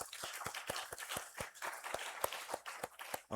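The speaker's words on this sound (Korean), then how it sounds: "하나님께 감사와 영광의 박수 한번 같이 올려드리겠습니다" A church congregation at a Sunday morning service claps in unison, sharp evenly spaced claps about every quarter second, fairly close and continuing for several seconds.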